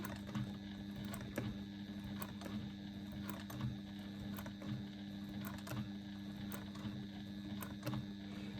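Domestic sewing machine running steadily through free motion quilting, a continuous low mechanical hum with regular stitch clicks, moderately quiet and alone with no talk.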